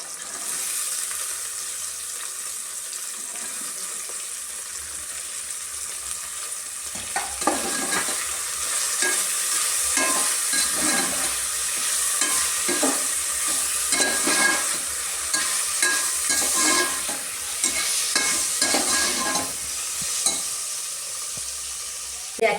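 Cabbage and spinach are stir-fried in hot oil, with a continuous sizzle; after a quieter start, frequent scraping and tossing strokes of the spatula come in an uneven rhythm, close and loud.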